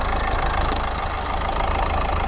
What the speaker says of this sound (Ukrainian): Двигун працює чітко, рівно.